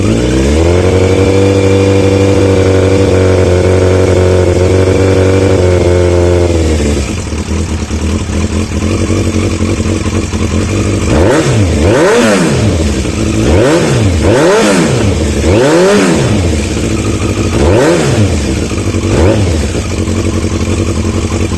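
A Yamaha Fazer motorcycle cold-starts on choke, first holding a steady high idle close by, then dropping lower before its exhaust is blipped in a series of sharp revs that rise and fall repeatedly.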